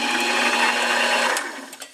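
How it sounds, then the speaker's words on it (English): A metal lathe turns and bores a cut-down bolt, a part being prepared for 20 mm linear rails on a PM727MXL mill. A steady, close machining whir holds for most of the clip, then eases off near the end. "now we're just going to turn it and bore it"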